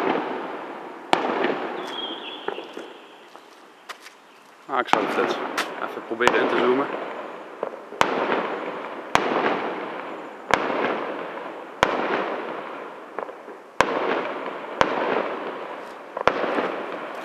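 Sharp fireworks bangs crack out at a fairly steady pace, roughly one every second or two, over continuous crackling in Liuyang, China, with a person briefly talking early on.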